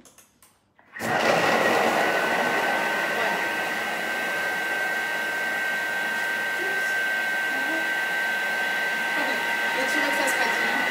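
Thermomix mixing apple tart ingredients at speed 6, a sudden start into a steady high motor whine with a constant pitched hum, loud and close, running unbroken for about ten seconds.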